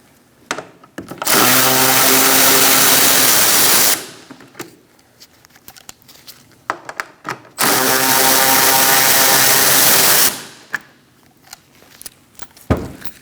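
A power tool spins a socket on the taillight bolts of a 2020s Toyota Corolla, two loud sustained whirring bursts of several seconds each, separated by rattles and clicks of handling.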